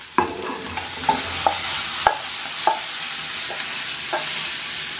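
Bacon frying in a pan, a steady soft sizzle broken by a series of sharp scraping stirs and clacks of a utensil against the pan, roughly one every half second to second.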